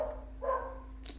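Dog giving a single short, muffled bark, faint against a steady low hum and background tone, with no talk.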